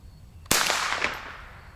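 A single sharp gunshot from a .22 LR rifle fitted with a red dot sight cracks outdoors after a quiet pause, then decays with a brief echo.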